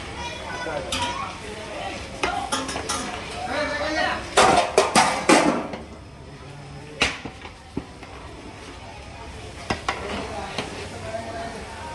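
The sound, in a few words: ghee tempering sizzling in pan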